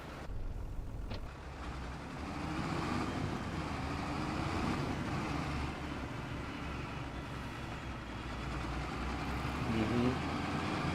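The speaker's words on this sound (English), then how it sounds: "I'm gonna go ahead and take this tractor and pick that up." Tractor engine in Farming Simulator 25, set on a Missouri farm, drones steadily and fairly loud for the whole stretch, with a low rumble and shifting tones as it works. No one speaks over it.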